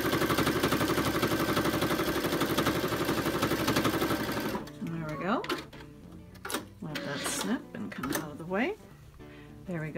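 A sewing machine stitches along the sides of a fabric pillow, running as a fast, steady mechanical whir for about four seconds and then stopping as a person starts talking.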